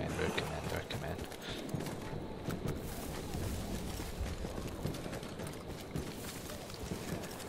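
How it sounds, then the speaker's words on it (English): Horse hooves clip-clop in the World War I shooter Battlefield 1, irregular thuds moving over a noisy, busy game soundscape at moderate loudness. "Oh, there's a horse."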